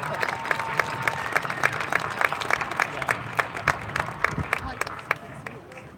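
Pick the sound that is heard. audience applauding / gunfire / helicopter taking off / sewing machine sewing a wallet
audience applauding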